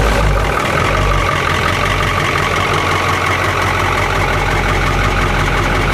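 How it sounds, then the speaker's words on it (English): The port engine of a coastal patrol boat turns over and settles into a steady, loud idle, a deep throbbing drone with mechanical clatter, no voices over it. "Starting port engine."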